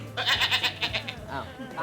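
A goat bleats several times in quick succession during a live concert, a sound effect played loud and close, with a wavering, nasal quality and a brief pause before a final shorter bleat.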